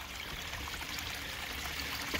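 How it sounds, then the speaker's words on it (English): Water pushed by a new pond pump pours through the filter, a steady close trickling and splashing flow with no break, fairly soft and even throughout. "I got a hell of a lot better water flow this year"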